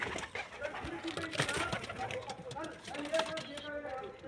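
Soft dove coos come and go amid rustling and faint background voices, fairly close but not loud, from dove chicks and adults.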